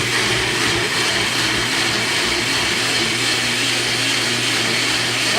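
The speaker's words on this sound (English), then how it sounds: "You can use your smoothie blender, whatever. Crank it on." A smoothie blender runs at full speed, whirring steadily as it purees garlic and other ingredients into a homemade pizza sauce, loud and continuous throughout with no talking.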